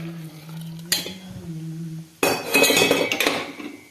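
Metal utensil scraping and clinking in a pressure cooker of kodo millet rice, lentils and hot water, a brief stir followed by a louder burst of stirring and clattering over a low hum.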